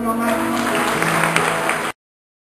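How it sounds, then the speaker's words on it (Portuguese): A church congregation applauds at a Sunday evening service, a steady crackle of clapping over sustained music tones that runs for about two seconds and then stops abruptly. "Aplauda o Senhor, meu amado."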